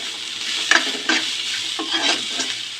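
Sweet corn fried and stirred in a pan, with a steady crackling sizzle and several sharp scrapes of a spoon against the metal at irregular intervals, close and moderately loud.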